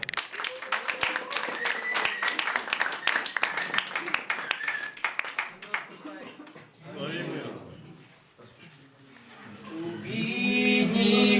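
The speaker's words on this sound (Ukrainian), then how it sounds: "А зараз ми вітаємо оплесками перший курс з їхнім вертепом." An audience claps for first-year students presenting a Christmas nativity play, with crisp rhythmic claps for several seconds that fade out, then singing voices and other sounds of the performance take over.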